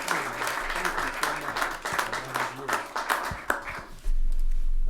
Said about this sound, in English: How about a round of applause for Terry?